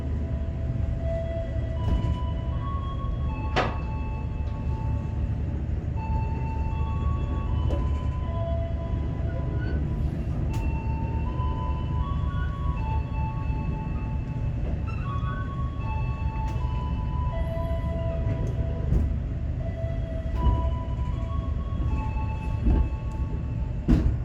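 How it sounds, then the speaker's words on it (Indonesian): The Majapahit economy passenger train, a new-generation set, rolls along the rails at night with a continuous low rumble, rhythmic wheel clacks and occasional squeals and tonal whines, heard from inside without speech. "kereta api Majapahit diberangkatkan kembali dari stasiun Tegal"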